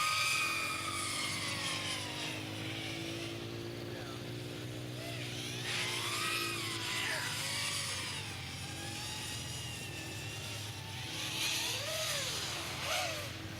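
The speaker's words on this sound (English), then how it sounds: "FPV Drift into the corkscrew now, as FPV Slacker comes through the hurdle" FPV racing drones fly a race course, their high, whining motor tones bending up and down in pitch as they pass, with a steady buzz running throughout while a commentator speaks over them.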